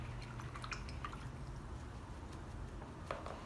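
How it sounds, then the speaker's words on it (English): Acrylic paint brush being rinsed in a water container, giving soft drips and small liquid sloshes over a low steady background hum, close and quiet with no voices. "Okay, wash your brush out now."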